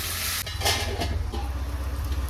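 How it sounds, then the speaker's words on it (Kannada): Tomatoes frying under a lid in a pan for aloo fry, a steady broadband sizzle with a low rumble and a few brief clinks of a utensil, close and continuous. "ಇವಾಗ ಟೊಮೆಟೊನ ಕೂಡ ನಾನು ಒಂದು 2 ನಿಮಿಷದವರೆಗೂ ಲಿಡ್ನಿಂದ ಕ್ಲೋಸ್ ಮಾಡಿಕೊಂಡು ಚೆನ್ನಾಗಿ ಫ್ರೈ ಮಾಡ್ಕೊಳ್ತೀನಿ ಮೆತ್ತಗಾಗೋವರೆಗೂ"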